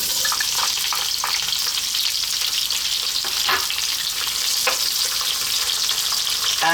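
Onion fries in hot oil for a green bean coconut curry, a loud, dense sizzle with scattered crackles and pops, steady throughout with no voices.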